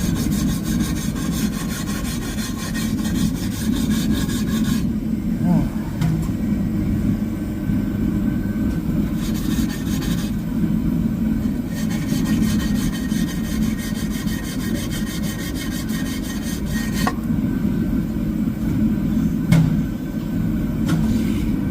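A dirty wheel rim scrubbed clean before a tyre is fitted. Continuous close, gritty rubbing and scraping with short breaks, over a low background hum.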